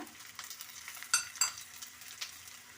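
Ginger, garlic and cumin frying in a pan, a faint soft sizzle with a couple of brief metallic clinks and scrapes from stirring, quiet and close.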